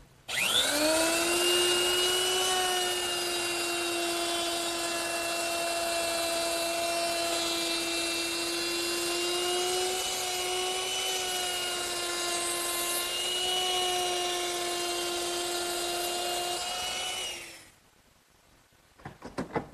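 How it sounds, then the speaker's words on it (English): Router fitted with a 3/8 inch roundover bit running steadily as it eases the sharp edges of a wooden post for a Mission-style sofa, a loud sustained high whine with shifting pitch that cuts off near the end. "And to do that, I'm going to use a 3/8 inch radius rounding over bit,"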